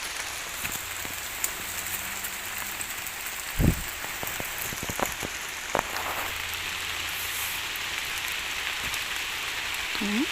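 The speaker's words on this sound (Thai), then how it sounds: "ฝนกำลังมาจ้ะพี่น้อง" Steady rain patters across the whole clip, with a few louder drips and thuds standing out against the constant hiss.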